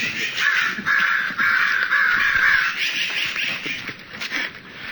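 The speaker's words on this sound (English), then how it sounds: "There is crow." Crows cawing in San Francisco, a flock calling repeatedly and overlapping in loud, continuous harsh caws close by, with no break across the stretch.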